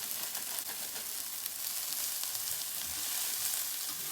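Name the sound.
onions, broccoli and cabbage sautéing in a pan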